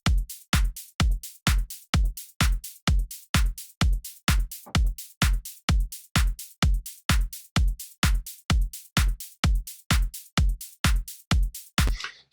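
An EDM track drop with a pounding four-on-the-floor kick, claps, closed hi-hats and a top loop, a steady punchy beat repeating evenly for about twelve seconds with no voices.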